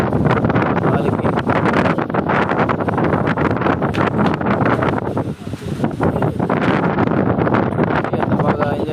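Strong wind blowing outdoors at Shettigunta, a loud, steady roar buffeting the microphone throughout with only a brief dip midway.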